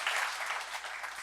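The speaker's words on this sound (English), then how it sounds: "here's a round of applause for Hyvä again" A conference audience at a Magento community talk claps for Hyvä in a brief, fairly quiet burst of scattered applause.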